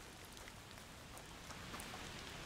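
Steady rain in the video game A Plague Tale: Requiem hisses evenly throughout, a dense close wash of drops with no voices over it.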